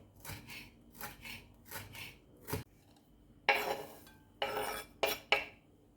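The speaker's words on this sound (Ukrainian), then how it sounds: "Солодкий червоний перець наріжу соломкою дрібненькі" A knife slices sweet red pepper into thin strips on a cutting board, with quiet rhythmic chops at first, then a few louder, sharper cuts and scraping strokes in a quiet kitchen.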